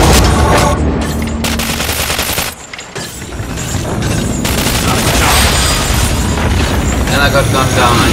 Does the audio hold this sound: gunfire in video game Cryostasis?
yes